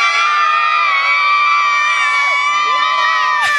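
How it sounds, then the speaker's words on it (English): A large stadium crowd in Durban, South Africa cheers and screams continuously at a sports match, a loud, dense, sustained roar of many voices with shrill whoops throughout. "Everyone is screaming for their favorite team."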